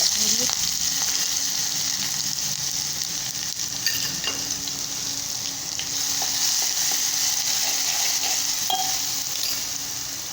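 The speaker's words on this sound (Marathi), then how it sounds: "आता तेल गरम झालेलं आहे जिरे टाकू लसणाचा ती पेस्ट" Cumin seeds and garlic paste sizzle steadily in hot oil in a pan, a continuous close frying hiss that holds for the whole stretch with a few faint stirring clinks.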